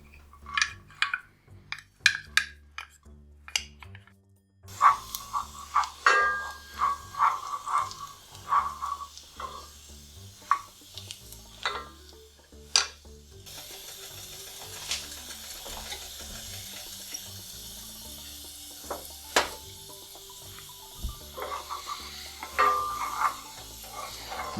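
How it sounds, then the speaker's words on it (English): Garlic sautés in warmed olive oil in a saucepan, giving a soft, steady sizzle with scattered clinks and stirring noises from utensils against the pan. "So we're going to heat the olive oil in this saucepan. And after it's warmed up a little bit, we'll add the garlic"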